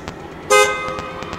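A single loud car horn toot bursts out over a pounding music beat at a DJ set in Breves, Marajó, with rhythmic thumps continuing after it.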